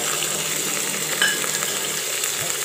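Bottle gourd, pumpkin and beans stir-frying with onions for sambar, a loud even sizzle with soft stirring scrapes close by, continuous and free of talk.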